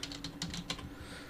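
Quick clicks from a computer keyboard as an attribute name is typed into Houdini software, a brief burst of close keystrokes over a low room hum.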